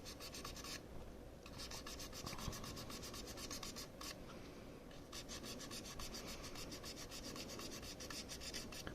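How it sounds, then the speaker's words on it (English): Abrasive rubbing on the metal contacts of an NES game cartridge to clear oxidation, a steady dense rasping scrape repeated in quick strokes throughout, close and fairly quiet, with no voices. "You're basically polishing it a little bit, getting oxidation and stuff off the surface so that there's a better connection."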